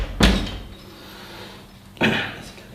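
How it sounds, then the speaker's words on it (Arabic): A door is shut indoors, giving a solid, close thud, followed about two seconds later by a second softer knock or latch sound. "اقفل الباب"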